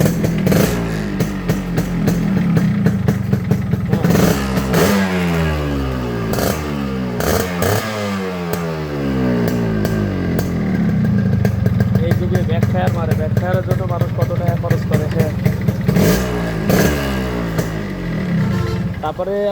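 A Yamaha RXS 115 two-stroke motorcycle is started and revved repeatedly, its engine pitch climbing and falling in sweeping surges between idling clatter, close and loud, with someone talking over it.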